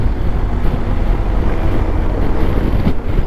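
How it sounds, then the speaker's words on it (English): Strong wind buffets a rider on a BMW R1250 GS motorcycle on a long highway ride, a steady loud broadband roar with gusty surges and no talk. "that driving wind that had buffeted about for the last 100 miles or so"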